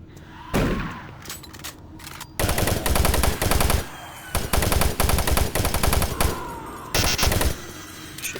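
Shotgun blasts in Doom 3, a series of loud, booming shots in bursts with short pauses between, close and dominant, with heavy low-end thuds and ringing tails.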